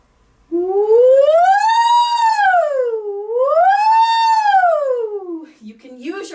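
A human voice imitates a siren, sliding up and down in two long, smooth wails, loud and close, ending with a brief breathy sound.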